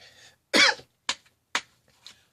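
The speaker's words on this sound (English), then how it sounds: "I'm coughing too much." A man coughs in a short series of close, sharp bursts: one heavy cough followed by three quicker, fainter ones, with quiet between them.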